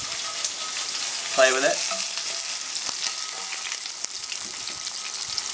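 Eel frying in a pan as its skin crisps, a steady loud sizzle close by, with a brief spoken phrase partway through.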